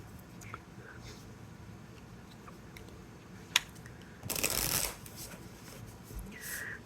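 Tarot cards being shuffled in a quiet room: faint scattered ticks, then a dense riffling burst for about half a second and a shorter soft shuffle near the end, with low murmured background.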